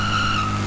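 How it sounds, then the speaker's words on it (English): A vehicle pulling a wheelie in GTA V with a sharp, sustained tire squeal under a steady engine drone, close and loud for under a second. "Check out my wheelie skill."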